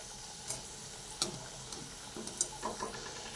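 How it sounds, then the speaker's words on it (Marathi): Bhakarwadi snacks deep-fry in hot oil over a high flame, giving a soft, faint bubbling hiss with scattered light clicks and taps from handling the pieces. No talking. "या पूर्ण भाकरवाड्या इथे मी तळून घेणार आहेत"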